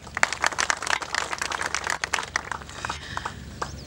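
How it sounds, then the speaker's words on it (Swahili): A crowd at a Chadema political party rally claps: dense, steady crackling applause from many hands, fairly loud and close, fading slightly toward the end. "naomba mjipigie makofi"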